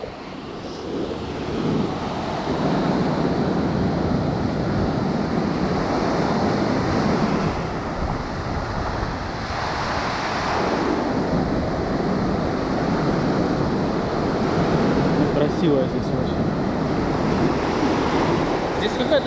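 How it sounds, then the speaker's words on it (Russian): Stormy sea surf rolling onto a beach at Ordzhonikidze in Crimea, a steady loud roar of breaking waves with gusting wind noise buffeting the microphone throughout. "Сейчас спустимся на пляжик."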